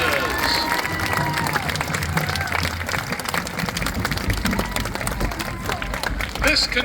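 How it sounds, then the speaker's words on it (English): Large audience at an evening school band showcase and awards ceremony giving a sustained round of applause and cheering, a steady dense wash of clapping with crowd noise throughout. "Can we please have one more big round of applause for all of our bands tonight"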